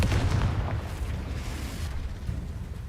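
A Confringo explosion spell in the video game Hogwarts Legacy lands as a loud, booming blast, followed by a deep rumbling tail that slowly fades over a few seconds.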